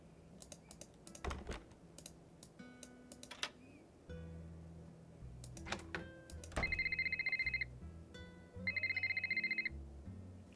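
A phone rings in the video game Nancy Drew: Labyrinth of Lies as two bursts of electronic trilling tones, mixed with keyboard clatter and game music.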